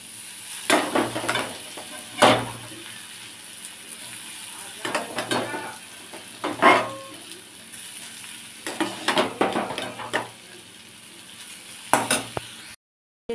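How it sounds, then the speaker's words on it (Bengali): Dal stirred and frying in a hot pan for a dry lentil chochchori, with a steady sizzle broken by several louder bursts of scraping and clattering against the pan. There is no talking. "এবার আমি ডালটাকে তুলে দেব, অল্প অল্প করে তুলে দেব"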